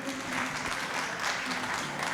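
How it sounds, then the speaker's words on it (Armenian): Steady applause from a crowd, a continuous wash of clapping that holds at an even level for a couple of seconds. "ծափերը բարձր, շնորհակալություն։"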